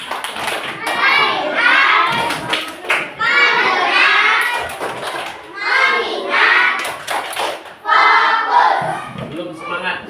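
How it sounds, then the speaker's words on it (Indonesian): Classroom of fourth-grade children doing the 'tepuk fokus' focus clap chant, loud unison voices chanting in bursts punctuated by sharp rhythmic hand claps, repeated several times close by. "Tepuk fokus."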